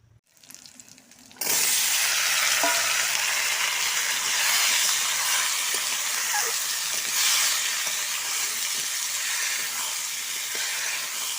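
A papad goes into hot oil in a wok. After a quiet second and a half, a sudden loud, close sizzle bursts up and holds as a steady, roaring hiss with faint crackles to the end, with no talking.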